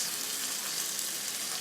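Chicken tikka sizzles and fries in a flat tawa pan with little oil, giving a steady, close, even crackle that runs unbroken throughout.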